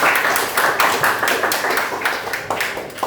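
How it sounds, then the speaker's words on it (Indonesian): A classroom of students claps for three classmates, a brisk, fairly loud applause that pulses steadily through the whole moment without any talking. "Beri tepuk tangan untuk ketiga teman-teman."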